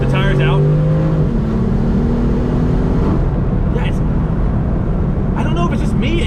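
Sports car, a Corvette or BMW M4, accelerating hard with its rear tires breaking loose, the engine note climbing loudly and close through rising harmonics while a voice talks briefly over it.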